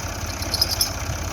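A Massey Ferguson 240 tractor engine idles with a low, even mechanical rumble and faint rhythmic knock, steady and close for a short moment with no talking.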